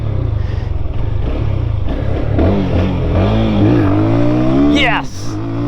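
Cafe racer motorcycle revved hard in first gear for a wheelie, a loud steady engine roar climbing in pitch toward the end, with a voice talking over it.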